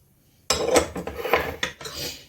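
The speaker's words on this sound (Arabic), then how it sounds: "وبشر الليمون زي ما انتم شايفين كده" Lemon zest is grated against a metal grater in a few quick, close rasping strokes after a moment of silence, each scrape bright and scratchy with short pauses between.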